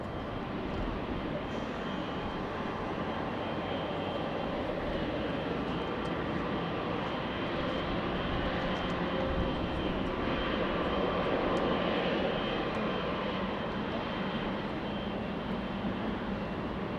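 A jet airliner at Los Angeles International Airport gives off a loud, continuous engine roar that holds steady throughout, with a slight swell partway through.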